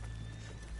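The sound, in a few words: horses walking, from the video game Red Dead Redemption 2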